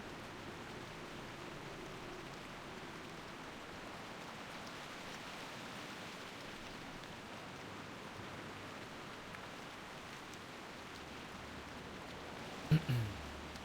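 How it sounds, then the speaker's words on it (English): Heavy rain falling in World of Warcraft, a steady, even wash of hissing rainfall at low volume that runs unbroken, with a brief bump of sound near the end. "Oh, the rain. The big rain. Rain ASMR is here."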